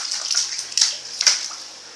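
Clothes being washed by hand in water during children's water play at home: sloshing and splashing bursts, a few sharper splashes near the middle, fairly close, with no talking.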